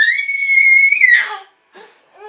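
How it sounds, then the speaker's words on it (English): A baby screams loudly in a long, high, sustained wail that rises slightly before breaking off, followed by a few shorter, fainter whimpering cries after a brief pause. "Lots of screaming baby."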